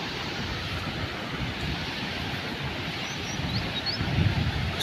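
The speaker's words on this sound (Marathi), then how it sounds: "कसलं प्रचंड पाणी" Floodwater from heavy mountain rain rushes and roars as a broad, continuous wash that swells a little toward the end. It is mixed with wind buffeting the microphone and there is no talk.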